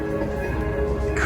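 A large bird near a castle at Universal's Islands of Adventure gives a brief, harsh caw over a steady background rumble.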